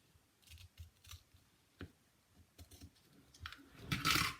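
Scissors cutting through paper or fabric for a craft project, a quiet series of short close snips at an uneven pace, ending in a louder rustling cut, with no talking.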